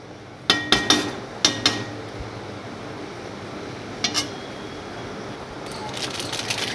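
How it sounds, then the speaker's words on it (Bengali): A metal lid is set onto a cooking pot of chicken curry, giving a few close, sharp clinks and clatters in quick succession, then a couple more light knocks later over a low background hiss. "এটা আমি এবার ঢেকে রাখবো ফুটে ওঠার জন্য বা সেদ্ধ হওয়ার জন্য।"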